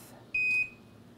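A single short electronic oven timer beep as it is switched off, a clean high tone lasting about a third of a second against quiet background.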